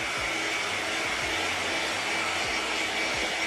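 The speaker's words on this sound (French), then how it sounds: "on sèche bien au sèche-cheveux." A hair dryer blows steadily on a freshly painted ABS RC car body for a Cross RC EMO XT4 crawler, a constant close whooshing hiss at low level with no voices.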